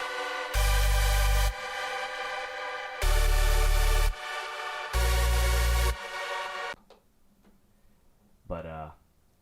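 Three loud, bright synth triad chords for a hardstyle lead, each held about a second with gaps between, followed by near silence and a short faint burst at the end.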